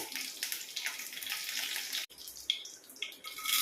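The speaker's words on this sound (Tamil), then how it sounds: "கடுகு நல்லா பொரியட்டும்" Mustard seeds spluttering and popping in hot oil in a pan, a dense crackling hiss with sharp individual pops, close and steady, briefly cutting out midway before resuming.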